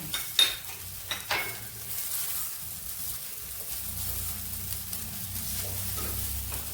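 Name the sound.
grated coconut stirred into ragi semiya in a pan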